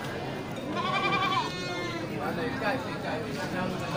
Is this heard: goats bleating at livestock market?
yes